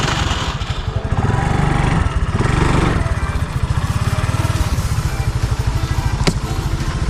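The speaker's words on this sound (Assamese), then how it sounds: "এতিয়া বাইক ষ্টাৰ্ট দি আছে" A motorcycle engine catches and settles into a steady, loud, close putter with an even rapid pulse, briefly revving near the start.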